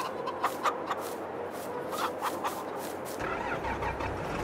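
In Farming Simulator 22, hens in a mechanized coop cluck in short repeated calls over a steady engine-like drone, with the background hum shifting partway through.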